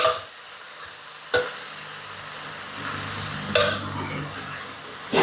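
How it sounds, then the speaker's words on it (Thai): Water spinach stir-fried over high heat with pork rinds, a soft continuous sizzle punctuated by a few sharp scraping bursts as the greens are tossed in the pan, near and without talk. "ผัดผักคันจอง นี่ เราต้องผัดไฟแรงๆ นะคะ ผัดไฟแรงๆ เลยค่ะ"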